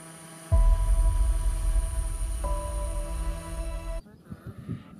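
A propeller aircraft engine and its exhaust from the game Microsoft Flight Simulator 2020 start abruptly as a steady, tonal drone with a deep rumble. The pitch shifts partway through, and the sound then cuts off into quieter, uneven noise.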